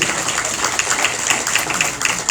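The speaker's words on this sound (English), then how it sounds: "a round of applause" Dense applause from a crowd at a city council meeting, steady clapping throughout with no pauses, fairly close and moderately loud.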